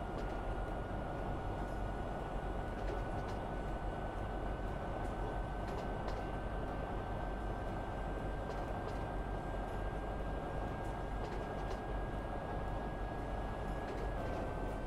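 A steady, low rumbling drone of a train in the Train Fever video game as it runs into a tunnel, continuous and even throughout with a thin tonal whine above the rumble.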